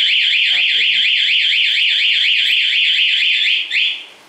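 A loud Honda Scoopy motorcycle anti-theft alarm wails in a rapid rising-and-falling electronic siren pattern, preceded by a short chirp after remote locking and ending abruptly.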